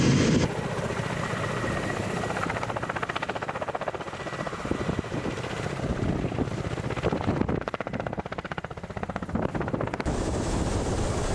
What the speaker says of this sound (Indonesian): KA-52 Alligator menjadi salah satu helikopter tempur yang paling dihormati dan ditakuti di dunia